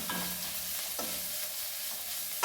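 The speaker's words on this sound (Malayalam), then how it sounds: "ചെറുതായി ഇളക്കി നമുക്കൊന്ന് എല്ലാം കൂടെ യോജിപ്പിക്കാം" Chilli powder and turmeric stirred into a frying mixture in a pan, a continuous close sizzle with a few light scraping strokes of the spoon and a sharper clack at the end.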